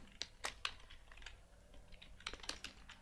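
Typing on a computer keyboard while writing PHP and HTML code, with two quick bursts of several clicky keystrokes separated by a brief pause, close and fairly quiet, no talk.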